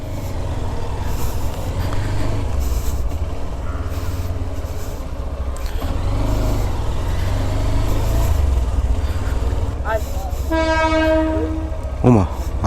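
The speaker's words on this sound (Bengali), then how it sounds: "ওমা, আরেকটা ট্রেন আসতেছে, আরও একটা ট্রেন আসতেছে। ও, এটা হচ্ছে তেলবাহী ট্রেন।" Oil tanker freight train passing beneath Kalurghat bridge, rumbling loudly and steadily with wheel noise, then sounding a long blaring horn near the end.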